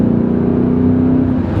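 A BMW E39 M5 with a naturally aspirated engine pulls under throttle, a loud, close, steady engine drone with a strong sustained tone held throughout.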